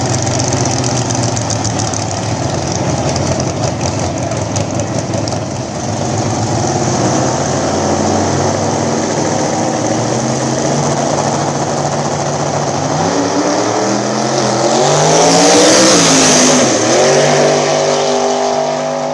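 Drag race cars, a turbocharged Rat and a gasser-style Nova, rumble loudly at the small-tire backside racing event, engines droning and revving before one rises into a sweeping, wailing pass near the end; no voices.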